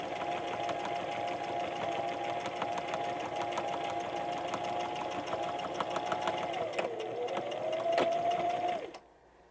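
A home sewing machine quilting through the fabric layers of a pencil pouch, its fast, steady needle chatter running loud and close for about nine seconds before slowing briefly, picking up again, then cutting off.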